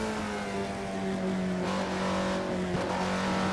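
An Alfa Romeo 33 Stradale engine in the Assetto Corsa racing game holds a sustained high-pitched scream near the top of its rev range, loud and steady without any voices.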